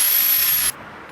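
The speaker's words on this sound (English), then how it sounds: "I'm drilling out my old screws that I snapped off because the Chilean mechanic couldn't do it" A power drill bores out old snapped screws on a motorbike, giving a loud, high whirring hiss that stops abruptly partway through, followed by near quiet.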